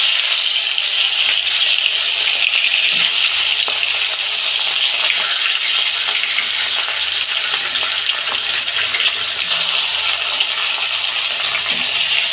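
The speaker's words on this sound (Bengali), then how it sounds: "কড়া গরম হয়ে গেছে, আমি মাছগুলো দিয়ে দিচ্ছি।" Fish pieces fry in hot oil in a kadai, a loud, steady hiss and crackle of sizzling that runs unbroken throughout, with no voices.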